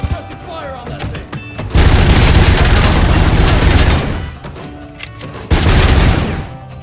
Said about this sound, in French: je reprends ma mitrailleuse lourde